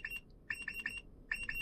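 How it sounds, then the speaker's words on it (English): Driver monitoring alarm in a car with an Epilog SideCar system, sounding as bursts of rapid high-pitched beeps in groups of three separated by short pauses, loud and close with a low cabin hum beneath. "you hear the alarm going off"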